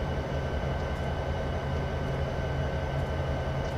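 A BNSF freight train rolls by in the Train Simulator 2015 game on Horseshoe Curve, a continuous low rumble and roar with a steady hum, held at an even level throughout.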